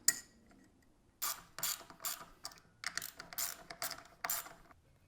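A ratchet wrench tightens bolts on a motorcycle oil pump plate, a Honda Grom, in a garage: after a quiet start, several bursts of rapid clicking come up close, with short pauses between strokes.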